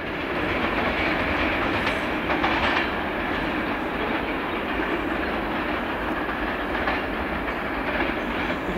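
A train running through Cardiff Central station, a steady broadband rumble with rail clatter holding at a constant level throughout, fairly close and with no voices.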